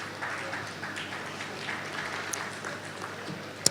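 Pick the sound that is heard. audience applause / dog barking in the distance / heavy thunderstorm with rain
audience applause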